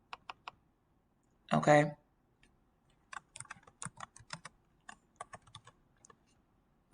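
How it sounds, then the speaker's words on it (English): Fingers type a name on a computer keyboard in quick, clustered clicks with short pauses, close and crisp, after a brief spoken word. "you could even type your name in here if you wanted to."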